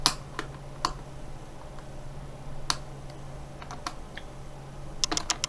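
Plastic keys on an HP 2000 notebook keyboard snap and click into place during removal and cleaning, sharp isolated clicks spaced irregularly, then a quick cluster near the end, close and fairly quiet over a low hum.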